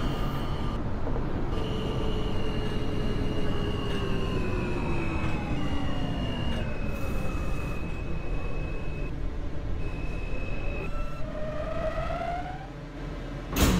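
An R160 subway train on the G line runs in the OpenBVE simulator game, its steady rumble carrying rising and falling motor whines and a long high tone throughout, with no talk.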